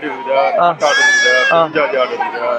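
Goats bleat loudly and close at a busy goat market, with several long, wavering cries overlapping one another.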